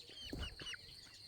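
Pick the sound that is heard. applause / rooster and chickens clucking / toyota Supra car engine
rooster and chickens clucking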